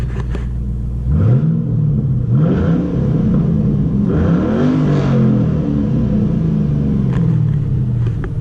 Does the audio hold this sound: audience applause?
no